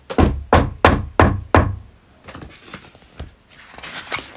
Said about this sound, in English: there was a loud knock at his front door.